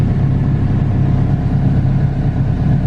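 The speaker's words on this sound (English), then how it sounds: "Let's look at our idle speed." A turbocharged GSR engine in an EF sedan idles steadily on a dyno, a loud, even, low rumble holding constant throughout with no revving or talk.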